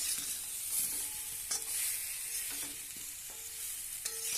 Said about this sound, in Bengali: কচুটা বেশ কিছু সময় নাড়াচাড়া করে ভেজে নিয়েছি